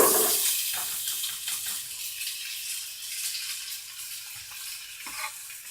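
Zucchini and onion sauté in a pan with a steady, close sizzle and soft stirring scrapes, continuous throughout with no talking.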